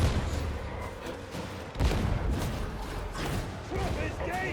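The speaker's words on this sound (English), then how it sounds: "Have a grenade, heretics!" A grenade goes off in the Warhammer 40,000: Darktide video game, one heavy boom in the middle of chaotic gunfire and battle noise, with voices shouting over the din.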